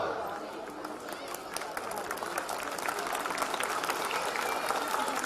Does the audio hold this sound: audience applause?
yes